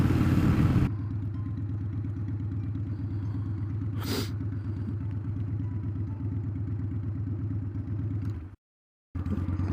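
A motorcycle ridden through city streets, its engine droning steadily and close with a low rumble, broken by a brief rising whine and a short dropout near the end, no talk.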